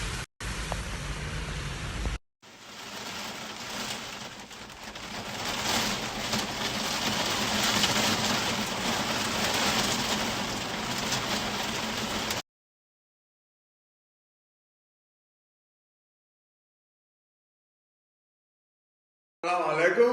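Rain falling steadily on surfaces outdoors, a broad continuous hiss lasting several seconds after a brief quieter opening, then cutting to silence with a short burst of sound at the end, no clear talking.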